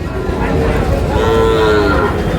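A Sahiwal bull calf at a cattle market lets out one loud, drawn-out moo close by over faint background crowd noise.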